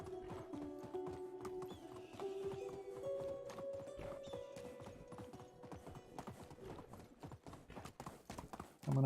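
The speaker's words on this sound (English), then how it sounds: "I like the speed of the horse" Horse hooves in the Medieval Dynasty game pound in a steady, rapid clip-clop gallop, close and continuous, with a brief whinny and a sustained tonal hum running beneath.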